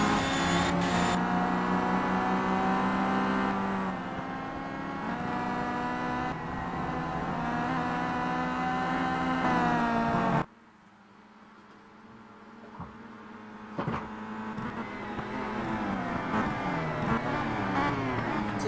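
Touring race cars from the World Touring Car Championship lapping Mid-Ohio Sports Car Course in the Simraceway racing game, a steady loud engine drone that cuts sharply to near silence partway, then builds back with rising engine whine.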